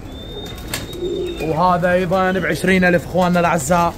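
Pigeons coo at a Wednesday bird market in al-Madina, Baghdad, their soft calls mostly buried under a man's loud, close talk.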